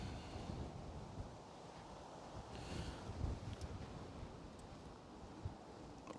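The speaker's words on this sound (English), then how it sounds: "Wind is pretty it's getting up." Strong wind gusting across an airport runway, buffeting the microphone with a steady low roar and rumbling swells, no voices.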